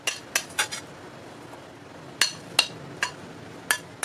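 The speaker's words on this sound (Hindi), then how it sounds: "इसमें हम ये सारे फ्रूट्स डाल देंगे" A spoon clinks against a bowl as fruits are added to cooled custard, with a series of sharp, separate metallic taps spread unevenly across the moment and no talking.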